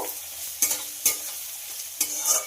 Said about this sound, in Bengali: পেঁয়াজটাকে খুব ভালো করে ভেজে নেব।